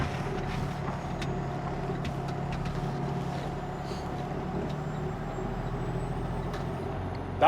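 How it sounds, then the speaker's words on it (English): A 2017 Freightliner Cascadia with a Cummins engine and a 10-speed Eaton Fuller transmission drives with a steady low diesel drone from inside the cab, with faint clicks and rattles and a short sharp noise at the very end. "this truck is 2017 Freightliner Cascadia with a Cummins engine, 10-speed Eaton Fuller transmission"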